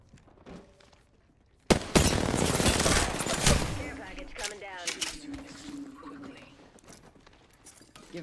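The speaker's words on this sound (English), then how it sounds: "I'm getting shot at" Gunfire in Apex Legends: after quiet, a sudden sustained volley of rapid automatic shots, loud and dense, thinning into scattered pops with game sound effects underneath.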